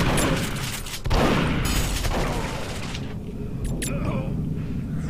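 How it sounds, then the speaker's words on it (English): A pipe bomb detonates in Duke Nukem Forever multiplayer, a loud booming blast with rumbling debris under a voice talking over it, surrounded by scattered game gunfire. "And I got pipe bombed."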